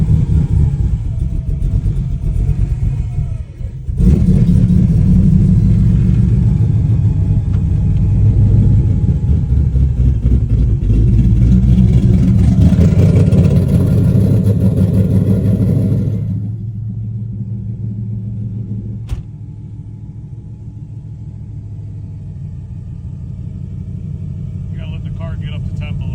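A 1988 Camaro with a 4.8 LS V8 and a Texas Speed Chupacabra cam warms up on a cold day. The idle is loud, lumpy and rumbling, then drops to a quieter steady idle. People talk over it.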